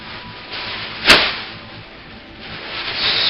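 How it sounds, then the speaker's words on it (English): A water spray bottle spritzes a cast concrete skull, a single short hissing burst standing out against low background noise. "spray it down with some water, wherever my water bottle is."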